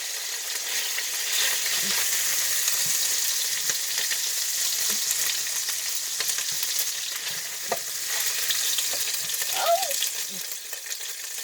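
Homemade meatballs sear in a hot pan, giving off a loud, constant sizzle and crackle with occasional pops and faint clinks.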